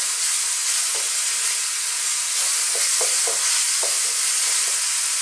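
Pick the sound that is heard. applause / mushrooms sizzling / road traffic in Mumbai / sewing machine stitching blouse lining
mushrooms sizzling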